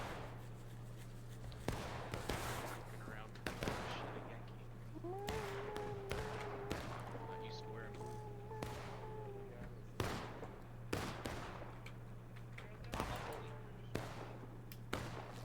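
Scattered rifle shots crack from soldiers firing out of windows in a Civil War battle game, sharp irregular reports near and far over a steady hum, with a commentator talking between them.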